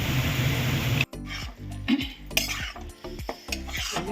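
Cabbage curry sautéing in a pot, a soft sizzle broken by a sequence of close, rhythmic scrapes and clinks of a spoon against the metal as the cabbage is stirred.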